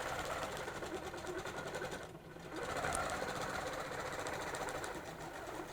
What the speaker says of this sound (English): Let's stitch all the way down.